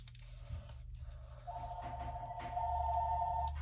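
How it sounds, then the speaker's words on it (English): A steady electronic phone ring warbles continuously over a low background hum, growing louder partway through. "somebody started ringing the phone"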